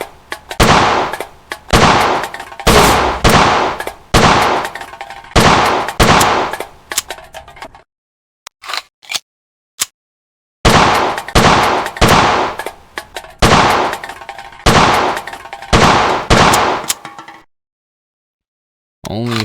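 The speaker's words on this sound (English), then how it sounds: "We are going to shoot at some targets and see how this gun handles in hand." Rapid bursts of Colt 1911 pistol gunshots in the World of Guns game, sharp loud cracks fired in quick strings with brief pauses between them, a short gap with a few isolated clicks midway, and no talking.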